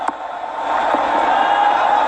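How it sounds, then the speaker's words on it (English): Evening cricket match crowd in a stadium during a Multan Sultans versus Karachi Kings game, a steady broad roar of distant fans building and swelling slightly, with a brief sharp knock at the start. "Crowd is building for the evening game."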